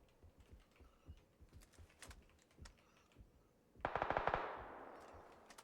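Gunfire in the PUBG video game: scattered light clicks and taps, then a rapid burst of about ten automatic shots fading into a lingering tail, heard alone without talk.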